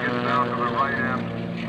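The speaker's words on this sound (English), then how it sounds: "he'll roll the airplane all around and around" An aerobatic propeller airplane rolling continuously through a pass at an airshow, a steady engine drone with a slowly shifting pitch, heard under a commentator's voice.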